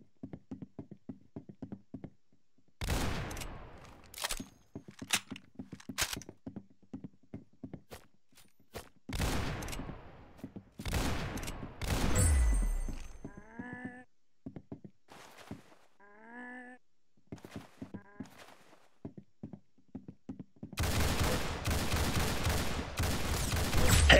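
Roblox Arsenal gunfire comes in scattered bursts of sharp shots and rapid volleys, with quiet gaps between them and a dense stretch of continuous firing near the end.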